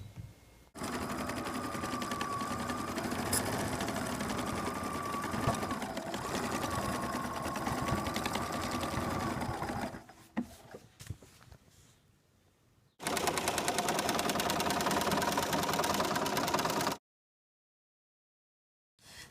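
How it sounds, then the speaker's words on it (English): A sewing machine sews the seams of a sensory quilt with an S or zigzag stitch. It gives long, loud runs of rapid mechanical chatter, broken by a quieter gap, then another burst before it stops dead. "So now that you have sewn the backing to the top of the quilt using the S or zigzag stitch"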